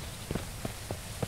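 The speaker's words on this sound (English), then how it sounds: "It's raining." Rain falls in the survival video game Mist Survival, a faint, steady hiss with a few soft, low thuds like footsteps scattered through it. No one speaks.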